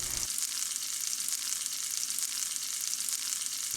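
Okra and turmeric frying in oil over low heat make a steady, dense, close sizzle with no pauses and no talking.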